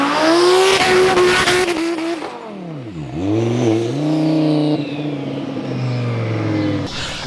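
A twin-turbo Lamborghini Huracan making about 1,000 wheel horsepower revs hard nearby, its loud engine note climbing and falling through sharp sweeps with a dip and recovery, then settling into a steady high drone.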